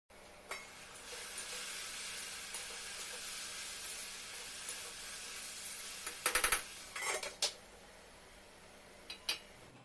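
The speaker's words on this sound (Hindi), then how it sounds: "अब ये तीसरी बार फाइनली भिंडी चल रही है।" Okra cooking in a home kitchen pan, a steady soft sizzle and hiss with a few clinks of a spoon stirring against the metal near the end, close and fairly quiet.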